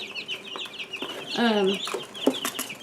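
Young chicks, fluffy golden chanticleers among them, chirp and cluck close by in a brooder, a busy scatter of short peeps and soft clucks with one drawn-out warbling call in the middle.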